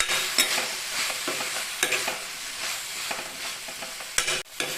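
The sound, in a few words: spices with chili powder and turmeric sautéing in a pan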